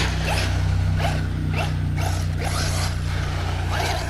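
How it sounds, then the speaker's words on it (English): Steering servo on a Serpent Cobra 811T RC truggy turning the tires, giving quick repeated whirring-buzzing sweeps back and forth about every half second over a steady electronic hum, close and loud. "Servo's got good speed and power. Turns the tires no problem."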